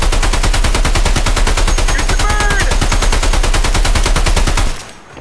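Sustained automatic gunfire in the video game Escape from Tarkov, a loud, rapid unbroken stream of shots for several seconds that cuts off abruptly at the end.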